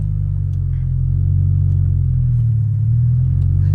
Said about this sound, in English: Now we're going to start moving in first gear, so we're going to slowly let off the clutch and add gas